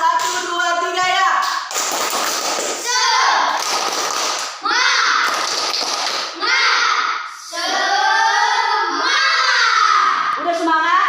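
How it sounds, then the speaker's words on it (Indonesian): Children in a classroom perform a rhythmic spirit clap, chanting together in bursts with patterned claps and taps in between, close and lively, the group voices dominating throughout. "Tepuk tangan semangat. 1, 2, 3 ya."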